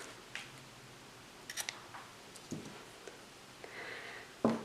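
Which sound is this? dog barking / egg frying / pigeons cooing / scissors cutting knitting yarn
scissors cutting knitting yarn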